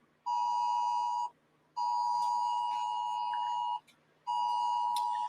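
A phone emergency alert tone warning of a tropical storm and flash flooding, sounding as three long, loud steady electronic beeps separated by short gaps, heard alone without talk.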